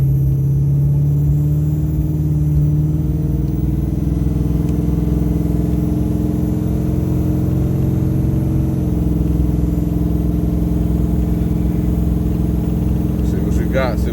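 A junkyard car engine pulling while driving, shifted down into third gear: a steady, loud, close drone with a tonal hum that shifts pitch partway through and a faint rattle at the end.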